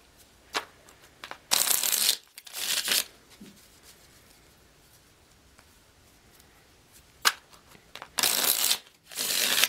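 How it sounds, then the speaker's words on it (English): Tarot cards being shuffled in several quick riffling bursts, close and crisp, separated by quiet pauses with a few light taps. "One more shuffle."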